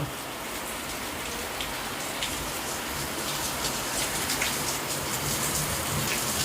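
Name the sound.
heavy rain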